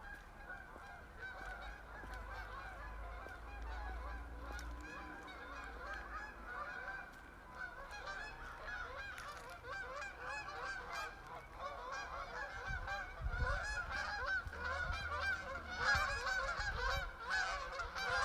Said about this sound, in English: Those birds are going nuts, man.